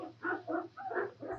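Several hounds bay and bark in a short series of four or five rising calls, moderately loud and a little distant, with no talk over them.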